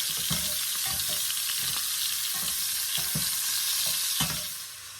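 Shrimp saute in a pan with a continuous bright sizzle, while a utensil stirs and scrapes in a loose, repeating rhythm of soft knocks throughout.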